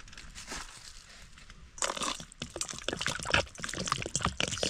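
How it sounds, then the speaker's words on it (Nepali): Water poured over a block of frozen octopus to loosen the ice at an outdoor jungle camp, starting as a soft trickle, then turning into a busy splashing and crackling pour with scattered drips. "पानी हालेर आइस चाहिँ मजाले छोड्छ होला"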